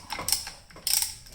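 Ratcheting caliper piston spreader tool working on Toyota Sienna front brakes, two short bursts of clicking ratchet strokes separated by a brief pause, close and crisp, without talk.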